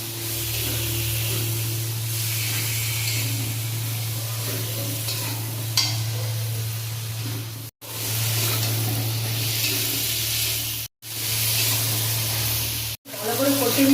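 Potatoes and whole okra sauté in a pan, a continuous close sizzle with a steady low hum underneath and occasional stirring clinks, cutting off briefly a few times.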